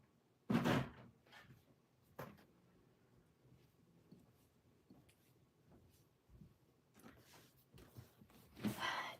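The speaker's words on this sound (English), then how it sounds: "Stop playing around with my door, guys." A door rattles and knocks in scattered thumps, with a few sharp louder bangs between quieter shuffles and creaks, fairly close in an otherwise quiet room.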